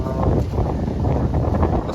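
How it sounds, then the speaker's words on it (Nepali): Wind blowing hard at an outdoor sunset viewpoint, a steady broadband rush with low buffeting against the microphone that continues unbroken for the whole span. "कस्तो हावा चलेको नि।"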